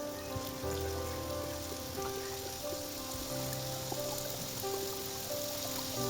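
Moong dal kochuri frying in a little oil on a tawa in a home kitchen, giving a steady, faint, even sizzle with fine crackling throughout and no voices.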